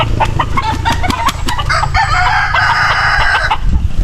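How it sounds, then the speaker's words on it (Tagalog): Several chickens clucking and crowing nearby, with a rooster's drawn-out call rising over a steady background of farmyard noise. "Dami nilang manok kong ialaga"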